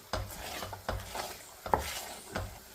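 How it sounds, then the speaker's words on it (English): Thick, oily Sri Lankan kalu dodol is stirred in a pan, heard as soft, rhythmic scraping strokes with light rubbing and occasional clacks, close by and quiet, with no talking. "எண்ணெய் வர தொடங்கிட்டு கொஞ்சம் நேரம் கிண்டணும்."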